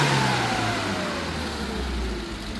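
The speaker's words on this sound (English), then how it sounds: "So just checking the throttle response." A classic car with twin SU carburettors revs steadily under throttle, engine note rising and falling close by, with no talking.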